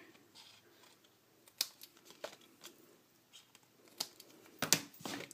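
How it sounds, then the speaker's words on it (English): Scissors trim the excess paper from a handmade watercolor-wash thank-you card. Several quiet, close snips and paper rustles come at uneven intervals, with louder cuts near the end and no speech. "let me go ahead and trim my excess here"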